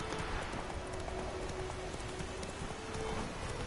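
A horse gallops in The Witcher 3 with rapid, steady hoofbeats thudding continuously under a soft ambient wash, fairly close and even in loudness.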